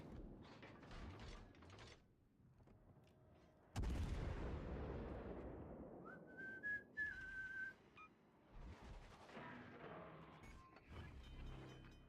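Warship guns firing in the World of Warships Legends video game: a sudden heavy boom with a long rumbling decay, surrounded by mechanical clanks, a brief whistling tone and further muffled impacts.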